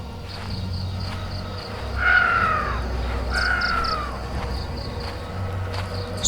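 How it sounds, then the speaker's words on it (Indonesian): A crow gives two hoarse, drawn-out caws, moderately near, on a hiking trail on Mount Slamet, against a background of buzzing insects and soft ambient noise. "suara burung gagak yang parau tadi masih terdengar mengikuti"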